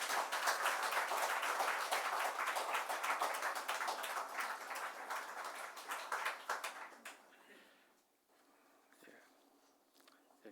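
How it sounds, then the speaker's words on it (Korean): Church congregation at a summer retreat clapping to welcome a lecturer, a fairly faint, steady patter of hands that thins out after about seven seconds into near quiet. "우리 박사님 나오실 때에 박수로 맞이하겠습니다"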